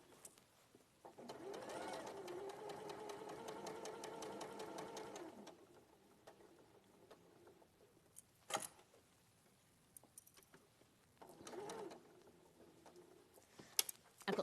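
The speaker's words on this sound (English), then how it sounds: "you're just going to sew all the way around that rectangle" A sewing machine stitching around a fabric rectangle, heard in two bursts of fast, even whirring and clattering separated by quiet pauses with faint handling sounds.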